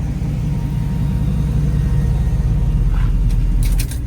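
The 5.3L engine of a 1972 Chevrolet Nova with a 4L60E transmission and stainless steel exhaust idles with a loud, steady low rumble, ending in a few clicks.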